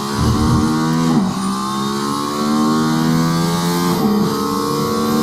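Mercedes-AMG ONE hypercar screams at high speed on a race track, its engine note loud and close with rising pitch sweeps and two sharp gearshift dips.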